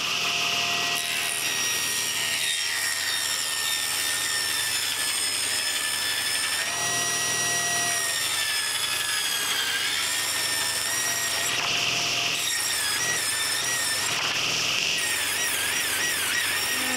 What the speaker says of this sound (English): So I've got my table saw set here to just over 3/4 of an inch